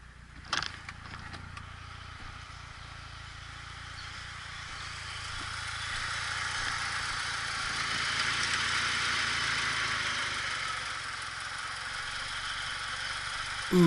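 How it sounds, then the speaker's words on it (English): A car engine idles steadily after an idle speed control adjustment; its hum swells midway, then settles back to an even idle, with a brief knock near the start. "I heard the idle dip and come back up."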